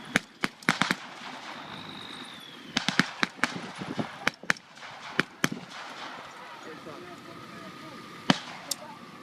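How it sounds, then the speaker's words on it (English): Simulated airstrike pyrotechnics go off at a Vietnam War battle reenactment, a scattered string of sharp pops and bangs at irregular intervals, some close and loud, over a low crowd murmur with a voice speaking. "This is the airstrike."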